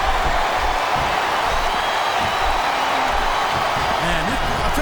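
Crowd noise fills a wrestling arena in WWE SmackDown vs Raw 2007: a dense, steady roar with cheering that runs under commentators talking throughout.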